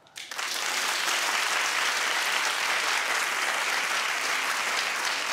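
A talk-show studio audience breaks into loud, sustained clapping that starts abruptly and holds at full strength, a thick wash of many hands with no voices over it.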